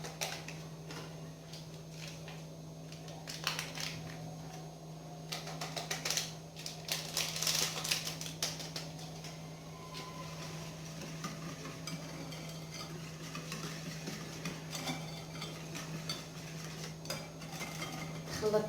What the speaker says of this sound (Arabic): خلطت حتى يدخل داك الكاكاو مع البيض والزيت والسكر